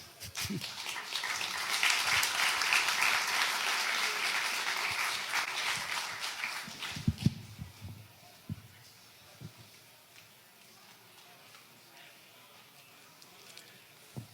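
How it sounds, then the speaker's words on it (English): Audience applause at a security conference talk rises and holds for several seconds, then fades out, leaving a quiet room with a few scattered knocks. "Another round of applause for him."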